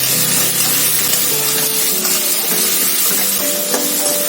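Flattened rice added to frying onion crackles and sizzles in a pan, a steady, moderate hiss broken by occasional stirring clinks and scrapes, with no talking.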